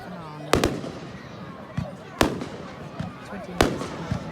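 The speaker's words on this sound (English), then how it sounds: "It's a lot of fireworks." Bonfire Night fireworks display in Stalbridge, with three loud sharp bangs spaced about every one and a half seconds and softer pops in between, heard from the crowd under a steady murmur of voices.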